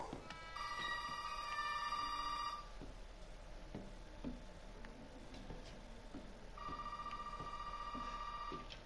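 A telephone rings in the Resident Evil 7 video game: two long electronic ringing bursts, faint and slightly distant, separated by a quiet stretch of ambient creaks and footsteps.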